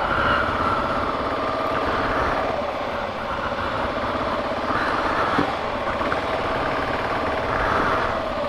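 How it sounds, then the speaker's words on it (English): A big truck drives past on a cold road, its deep engine rumble steady and fairly loud, with broad road noise throughout and no speech. "Let the big truck through."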